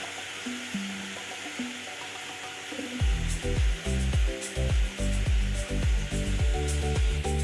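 A Deli vacuum sealer machine starts pumping air from a bag, a steady hum that turns into a loud, pulsing mechanical rattle with regular bursts after the first few seconds.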